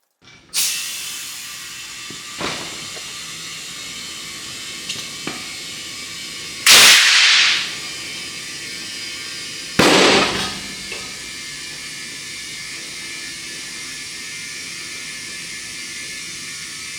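A tire inflates on a manual tire changer, with steady hissing air, a few sharp clicks, and two loud bursts as the bead pops onto the wheel, close and without talk.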